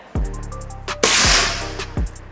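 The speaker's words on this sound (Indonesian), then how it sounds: "Oke, tembakan ketiga ini ya," An SR Stainless series air rifle fires in sharp, loud cracks at close range, several impulsive reports spaced unevenly with a brief hiss after one, and no talking.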